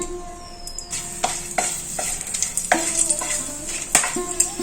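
Whole spices, including cinnamon and black cardamom, sizzle and crackle continuously in hot oil in a pan while a utensil scrapes and stirs repeatedly, close and clear, with no talking.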